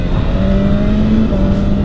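A BMW M1000R motorcycle engine revs hard on an urban expressway, a loud, steady high-pitched whine with rising tone under heavy wind rush.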